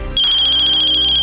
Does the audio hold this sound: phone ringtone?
yes